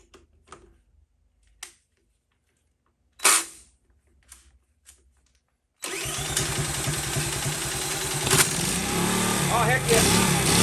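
A Honda CT70 camp bike, an old small motorcycle, has its engine started from quiet after a few scattered clicks and knocks; it fires at once into a loud, steady, rapidly chugging idle that holds to the end, with faint speech before.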